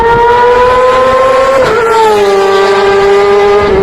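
A Kawasaki Ninja ZX-6R motorcycle's exhaust holds a loud, high, steady engine whine that dips in pitch midway and then settles lower, heard up close and alone.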